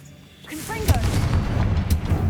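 A Confringo blasting spell from Hogwarts Legacy gives a loud booming burst after a brief rising magical whoosh, with a second sharp hit near the end over a rumbling game soundscape.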